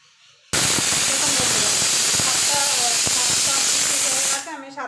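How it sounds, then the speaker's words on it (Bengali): A pressure cooker with rajma inside lets out a loud, continuous rush of hissing steam for about four seconds before cutting off abruptly. "কেন এক একজনের প্রেসার কুকারে এক এক রকম सीटी লাগে।"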